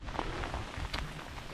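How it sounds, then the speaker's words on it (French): Steady rain falls on a hiking trail on Belle-Île-en-Mer, a continuous broadband hiss of drops hitting the ground and foliage at moderate level, with no voices over it. "C'est agréable aussi d'avoir de la pluie."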